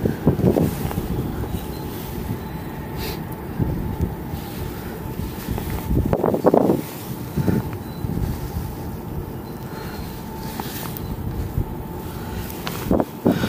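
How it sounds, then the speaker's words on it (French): Strong wind buffets the microphone in rough, continuous gusts on the bank of the Sambre river at Marcinelle during feeder fishing, with occasional knocks and bumps and no speech. "Puis il y a tellement de vent"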